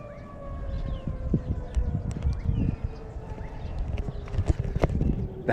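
A far-off city siren in León, Nicaragua drones steadily in the background while horse hooves clop nearby in an irregular rhythm.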